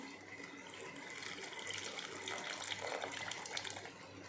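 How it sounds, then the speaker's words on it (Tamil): Strained tamarind water is poured into a cooking dish, making a soft, continuous splashing trickle for a few seconds, fairly faint and without talk. "புளி தண்ணி அதை ஊற்றிக்கலாம்."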